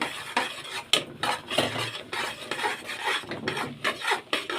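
Caramelized sugar and broken carob pieces being stirred in a pan, a steady scraping and rasping of a utensil against the pan bottom in repeated strokes, close and fairly loud with no talking.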